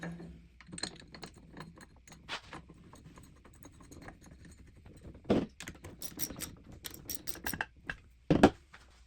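A 13mm ratchet and socket tightens bolts while a Torin 3-ton floor jack is being assembled, giving quick light metallic clicks and rattles with scattered louder clanks of tools and parts nearby.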